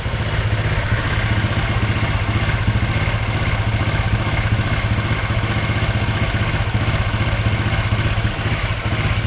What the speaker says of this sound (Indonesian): Nah, sudah bisa teman-teman dengar suara timing kudanya udah keluar.